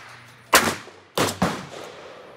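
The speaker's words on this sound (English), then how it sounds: "I'm gonna shoot the bottom right target." .38 revolver firing 110 grain semi-wadcutters at a target, three sharp, loud gunshots, the first alone, then two in quick succession, each with a brief outdoor decay.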